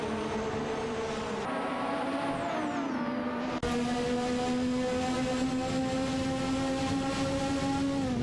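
Race cars, a Zakspeed 881 and a Lotus 100T, in a racing video game: sustained high-pitched engine whine from close cars battling, with shifting revs, a brief gear-change dip, and no talk.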